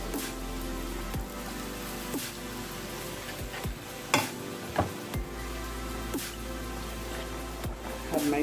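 Broth poured into a pan of flour for shepherd's pie filling sizzles steadily while a spoon scrapes and stirs, with occasional louder clanks against the pan.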